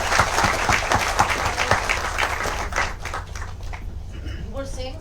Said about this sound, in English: Let's welcome our chief guest here with a big applause.